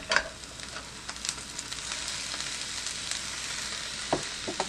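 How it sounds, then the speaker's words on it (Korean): Seafood is stir-fried over high heat in a pan, a soft steady sizzle dotted with small scattered pops and a few light utensil clicks. "해산물을 볶으면서 시험장에서 지급된 화이트 와인을 넣어줍니다"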